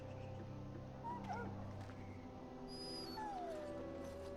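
A wounded dog in the Dragon Age Origins fantasy video game whimpers and lets out thin, rising howls over a steady low background drone. The cries come in a few short, plaintive bursts.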